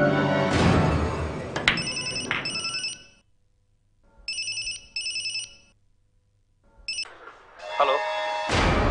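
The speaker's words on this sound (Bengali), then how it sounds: "আবার কার ফোন আনন্দ" A mobile phone ringtone plays in bursts of repeated electronic tones with short gaps of near silence, indoors, alongside some background voices.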